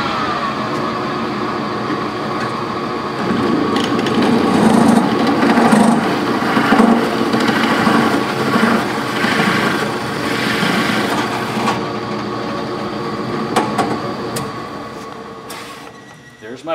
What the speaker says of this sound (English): We're going to drill them out to 1 1/8 inch using our Unibit